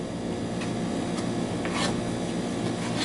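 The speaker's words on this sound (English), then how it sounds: "Scrape some of that back in." A spoon scrapes cornmeal biscuit batter around a mixing bowl with a steady, close rasping rub, continuous and without talk.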